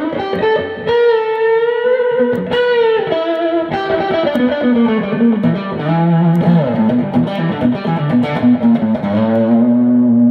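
Distorted electric guitar chords and lead notes through a Boss BC-2 Combo Drive pedal ring out with a heavy, washy reverb tail, loud and continuous, with no voices.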